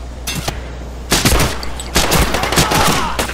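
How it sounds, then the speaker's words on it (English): Rapid bursts of gunfire crackle in Medal of Honor Pacific Assault, loud and close, with automatic volleys starting around the first second and returning in dense clusters. "Who's shooting me?"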